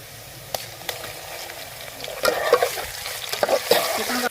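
Chicken sizzles in a pan with browned onions for a gobi chicken curry, a steady close fry with scattered stirring clatters that grow busier and louder partway through, and no talking.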